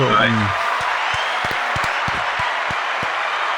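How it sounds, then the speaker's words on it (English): Applause rings out for an interview guest, a steady broadband wash of clapping that carries on after a voice finishes speaking at the start, with scattered louder claps standing out near the listener. "One more round of applause for you"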